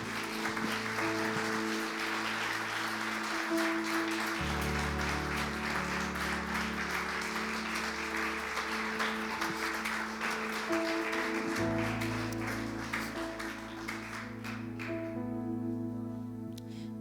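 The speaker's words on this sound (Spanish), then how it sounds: "Denle un aplauso al Señor" Congregation applause in a church service, continuous clapping from a crowd over sustained keyboard chords that shift pitch, steady in level for a long stretch.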